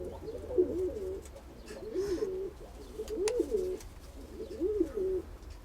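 Pigeons coo in a small backyard loft, low throaty rolling calls repeating in four clear bouts over steady low background hum, fairly close and moderate in level.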